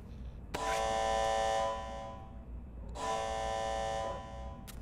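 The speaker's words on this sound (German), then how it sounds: "Es gibt Alarm." A loud electronic alarm buzzer sounds twice in the video game Die Young, each a harsh, steady tone of about a second and a half, with a short pause between the blasts.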